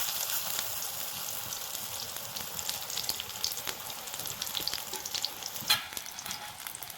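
Raw banana pieces fry in hot oil over a low flame, a continuous close crackling sizzle with scattered pops and one brighter spit near the end, and no voices.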